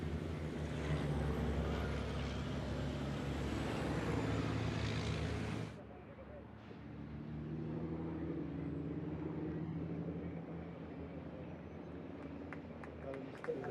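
Race trucks at the Jarama circuit, loud dense engine roar for about six seconds that cuts off abruptly, followed by a quieter mix of lower engine drone and distant vehicle noise.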